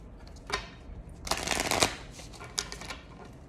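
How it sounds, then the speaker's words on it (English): Tarot cards shuffled on a marble table, a close, crisp riffling burst with a few lighter flicks before and after, fairly quiet overall. "give the Angels one more shuffle here"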